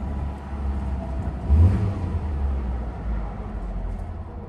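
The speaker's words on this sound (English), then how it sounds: "After I fixed that, I went ahead and started it," A 2009 Subaru Impreza engine starts with a brief surge and then idles steadily, with a low, continuous rumble and no talking.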